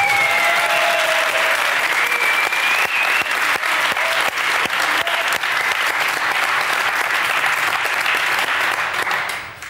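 A theatre audience applauds a comedy stage performance, a loud sustained wave of clapping with crisp individual claps up front and a few voices calling out, fading at the very end.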